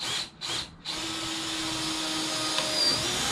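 A power drill bores into the metal floor of a van during a conversion, running as a loud, steady whine after two short starts and stops, close and alone with no talk.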